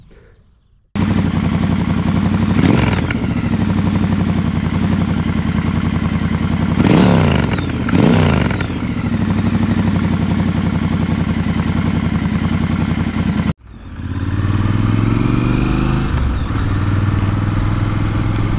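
Triumph Scrambler Steve McQueen Special motorcycle being ridden, its engine droning loud and steady with rising revs and gear changes, a brief cut, then the engine pulling again close by.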